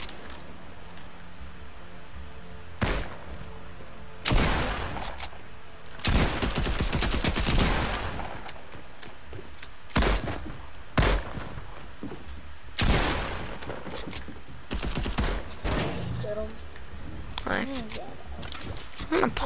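Tactical submachine gun fire in Fortnite, in repeated short bursts and longer sprays that stand out loudly over game ambience, with voices at times between volleys.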